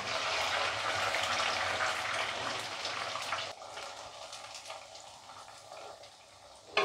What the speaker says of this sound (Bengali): তেল গরম হয়ে গেছে, কম আছে, একটা একটা করে এবার ছেড়ে দেবো।